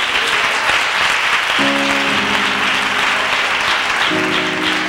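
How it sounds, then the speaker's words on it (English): A church congregation claps hands together steadily and loudly throughout, with a sustained organ chord entering partway through under the clapping. "Come on, clap your hands for the word tonight."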